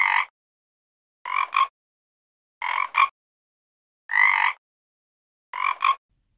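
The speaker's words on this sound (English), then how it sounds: "Frogs, ribbit, ribbit." Frogs croak in five evenly spaced bursts, most of them double calls, clear and moderately loud against silence.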